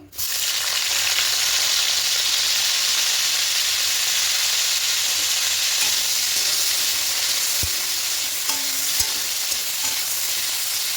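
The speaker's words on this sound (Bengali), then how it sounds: "এর মধ্যে সাদা তেল দিয়েছি, এবার ফুলকপিগুলো দিয়ে দেবো।" Cauliflower frying in white cooking oil for a potato-cauliflower roast, a loud steady sizzle throughout with a few faint clinks of stirring near the end.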